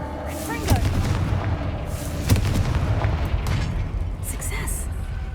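Confringo spell explosions in Hogwarts Legacy, several booming blasts with cracking impacts and rumbling tails in close succession, mixed with game effects, a voice speaking over them.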